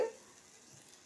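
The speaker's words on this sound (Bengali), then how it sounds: "ভেজে নিচ্ছি।" Lentil paste fritters, beaten with salt and turmeric and shaped into small rounds, fry in hot oil with a steady, soft hiss and crackle. A brief louder bubbling burst opens the sound, then it settles into a quiet, even sizzle with no talking.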